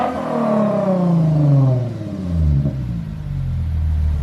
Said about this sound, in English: Between the F Sport air intake and this Catback exhaust,